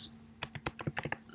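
A burst of quick keystrokes on a computer keyboard while entering a simulation input file: about eight crisp, close clicks in an uneven rhythm over a faint background hum.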